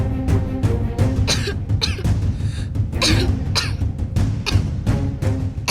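A woman coughs repeatedly in harsh, rasping bursts, close and loud, with short gaps between fits and no talking.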